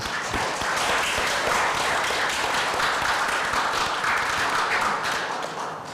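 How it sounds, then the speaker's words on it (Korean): An audience at a Sejongno national affairs forum applauds Vice Minister Kim Kyung-sun of the Ministry of Gender Equality and Family, a steady, dense wash of clapping that fills the whole stretch at even loudness. "김 차관님께 감사의 박수 한번 더 보내주시기 바랍니다"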